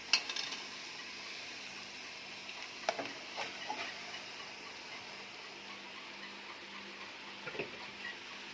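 Chicken pieces frying in hot separated oil for chicken dum biryani, a steady faint sizzle with a few scraping stirs of a spoon in the pan.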